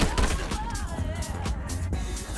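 Gunfire in the video game Ironsight: several quick bursts of shots crack through a busy mix, fairly loud and close, with brief pauses between volleys.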